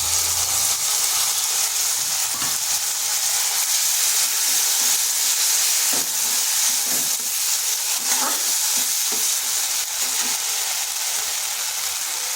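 Ground spice paste sizzling in a pan with salted, softened tomatoes for a bitter gourd (karela) curry, a steady loud frying hiss with occasional stirring scrapes and pops.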